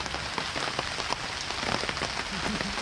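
Rain pelts down on an outdoor fence-building site, a dense steady patter with scattered louder drops close by.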